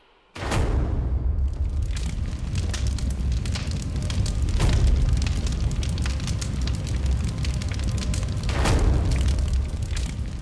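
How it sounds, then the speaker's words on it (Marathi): A large fire burns after an explosion at a chemical factory in the Dombivli MIDC industrial area, giving a loud continuous roar with crackling and a few sharp booming bursts, heard without speech. "या दिवशी डोंबिवली MIDC अशा भीषण स्फोटाने हादरली"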